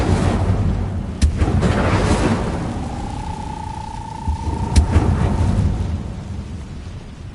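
A fire spell cast in the video game Hogwarts Legacy gives a steady roaring rumble, with two sharp cracks about three and a half seconds apart and a faint sustained tone between them.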